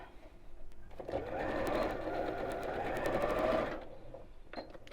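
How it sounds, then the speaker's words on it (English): A sewing machine stitches a seam on a child's drawstring backpack in one steady, close, whirring run of about three seconds, with small clicks and handling before and after and no talking. "I'm just going to sew over a couple of times, and the same on this side"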